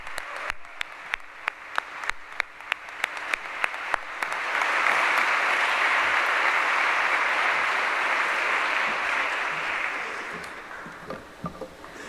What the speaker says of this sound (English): please stand for another round of applause